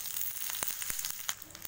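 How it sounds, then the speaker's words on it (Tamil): Mustard seeds and urad dal sizzle and pop in a small amount of hot oil for a tempering, a steady close frying hiss broken by sharp crackles. "எண்ணெய் சுட வச்சு இப்போ இதில் கடுகு, உளுந்தம்பருப்பு,"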